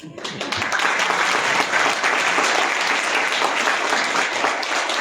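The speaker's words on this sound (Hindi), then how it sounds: "बहुत बढ़िया तालियां बजाइए आप।" Sustained applause from a large seminar audience, dense and even throughout, with a faint voice or cheer mixed in.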